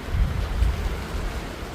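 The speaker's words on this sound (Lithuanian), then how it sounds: "Lyja, vėjas." Rain and gusting wind outside a parked truck waiting to be unloaded at a building site, a steady rough rumble with low buffeting gusts close to the microphone.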